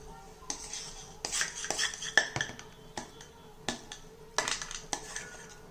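Utensils clink and scrape against a metal plate greased with ghee while a banana barfi mixture is spread out, giving a string of close, sharp metallic taps and scrapes with no talking.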